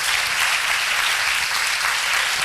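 A church congregation claps steadily and loudly throughout, a dense sustained wall of applause from a worship congress crowd with no pauses.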